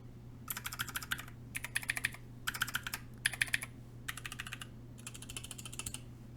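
Typing on a custom budget-built mechanical keyboard with Gateron Clear switches: close, crisp clacking keystrokes in six quick bursts separated by short pauses, over a low steady hum.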